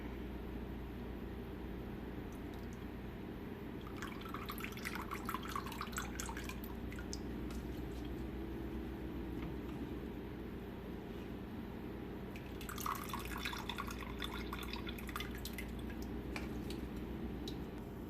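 Whey drips and trickles from goat milk mozzarella curds sitting in a strainer over a bowl, two soft bursts of fine, wet patter over a quiet steady hum, faint and close.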